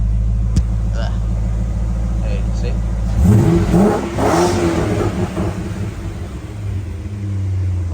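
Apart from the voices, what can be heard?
Holden VT Clubsport 5L V8 engine revving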